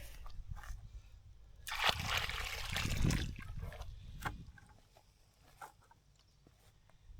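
Water pours from a watering can onto garden soil, a soft trickle and splash that swells to a fuller rush midway, then tapers to light dribbles, faint and close.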